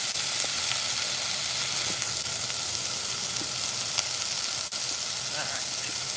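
Chicken spinach tortellini soup sizzles and hisses steadily in a pan, a constant close frying crackle with a few faint stirring clicks throughout.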